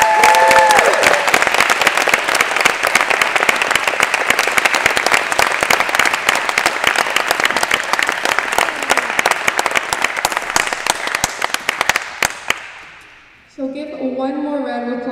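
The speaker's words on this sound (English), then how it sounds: "One more round of applause to all of our seniors." An audience at a spring high school band concert gives seniors a loud, sustained round of applause with dense, continuous clapping that fades out near the end, followed by a short stretch of voices.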